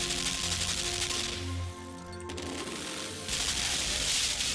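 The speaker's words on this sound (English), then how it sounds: "Machine gun, please don't do this no more." Machine gun fire in the game Limbo: dense, rapid bursts of gunfire that ease off midway, then return loud and continuous, with no talk.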